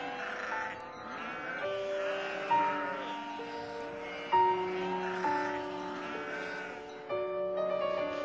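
A flock of sheep bleating, several overlapping wavering calls that repeat every second or so at moderate distance, with no talk.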